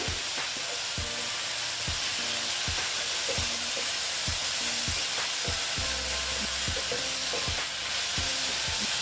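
Radish curry with green chilli sizzles in a pan while a spoon stirs it, with steady frying hiss and regular knocks of the utensil against the pan, close and clear, no talking.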